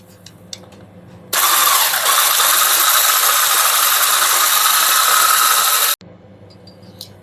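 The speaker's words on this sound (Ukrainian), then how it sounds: "Збиваємо 2-3 хвилинки." A loud electric hand mixer beats eggs with salt and sugar, whirring steadily for several seconds, starting and stopping abruptly, with quiet room sounds before and after.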